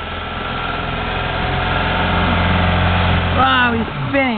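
A pickup truck's engine revs steadily while its wheels spin on a snowy hill after a snowstorm, a loud continuous drone that holds for several seconds before a voice cuts in near the end.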